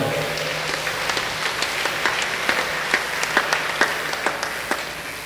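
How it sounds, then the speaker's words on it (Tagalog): Congregation applause during a Holy Wednesday Mass in a church, a steady wash of many hands clapping for about five seconds, moderately loud and even, with no talk over it. "Pumalakpak po tayo kung approve po tayo doon."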